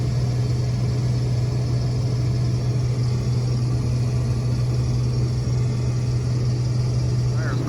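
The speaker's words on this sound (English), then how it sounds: "This truck's pulling in." A truck pulls in at a cold-weather harvest site, its engine a steady low idling rumble and hum that holds evenly throughout, close and unbroken.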